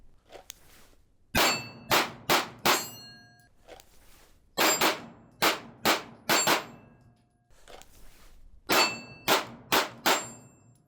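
A Jacob Grey TWC HEX pistol fires Fiocchi 115 grain range ammunition in three bursts of four to five sharp, loud, closely spaced shots, with short quiet pauses between strings.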